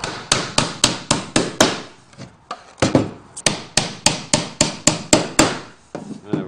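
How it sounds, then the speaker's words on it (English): Nails driven into a simple wooden stool with a hammer: a steady run of sharp, close strikes at an even pace, a short pause, then another quick series of blows. "Maybe we'll just put one more nail in the middle."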